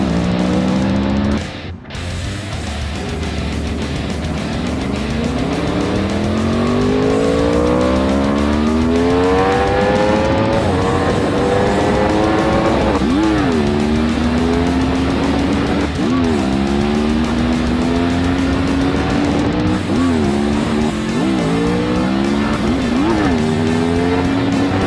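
A Yamaha R1 sportbike with a badly worn rear sprocket, down to six teeth, revs hard through the gears. The loud, close engine note climbs in pitch, drops at each shift, then climbs again in repeated sweeps.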